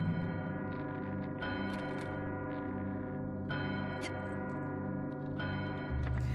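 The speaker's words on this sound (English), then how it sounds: "There's a big old bell here, but who wouldn't want to do this in real life?" A large bell in the video game Psychonauts rings with deep, resonant strikes that recur every couple of seconds, each leaving a long humming decay and overlapping the last.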